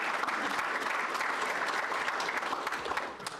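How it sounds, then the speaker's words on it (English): Steady applause from a crowd at a news conference in Nashville, dense clapping filling the whole stretch at an even, moderate loudness. "Give yourselves a round of applause"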